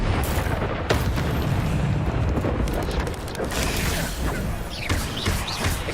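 A fire spell cast over and over in the Hogwarts Legacy video game: loud, dense bursts of booming flame, each eruption blending into the next in steady, continuous combat noise.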